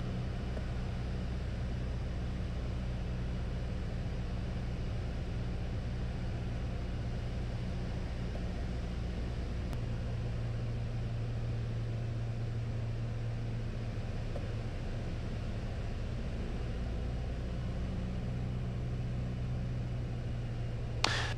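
A Piper PA28 light aircraft engine drones steadily during slow flight, a constant broadband hum with a low tonal rumble that holds unchanged and uninterrupted throughout.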